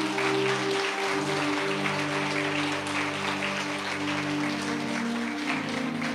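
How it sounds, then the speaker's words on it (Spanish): A church congregation claps during a Catholic preacher's service, sustained applause over steady organ or keyboard chords that shift pitch partway through. "Le damos un aplauso."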